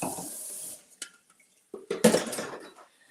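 Fruit rinsed under a running kitchen tap, a brief close rush of water at the start, then a quiet gap and a second burst of splashing water with light clinks of dishes.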